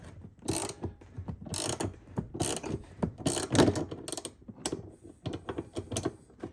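A nut is worked off a spinning rear shock absorber shaft on a Hyundai i10, with repeated close ratcheting clicks and metallic rattles in irregular bursts, no talk over them.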